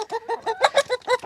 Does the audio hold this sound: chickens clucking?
yes